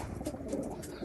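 Racing pigeons at a club loft coo softly in a brief, low, rolling murmur, close by, with no one talking.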